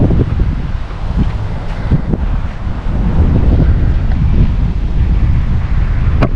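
Wind storm in early November roars steadily into the microphone, a loud, dense rushing with buffeting gusts that swell slightly partway through, no voices.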